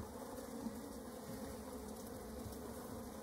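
Honey bees at a hive drone in a steady, dense buzz that holds unbroken and fairly close, with no talking over it.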